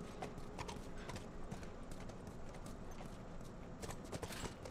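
Horse hooves clip-clop in a quick, steady rhythm in The Last of Us video game, fairly soft and close, with a faint background hum.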